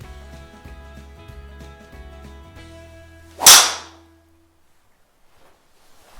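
Golf driver striking a ball, one sharp loud whip-like crack standing out above faint background hum, then near silence.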